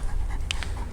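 A large Kangal dog pants close up with quick, loud, rhythmic breaths, one brief higher rasp standing out midway.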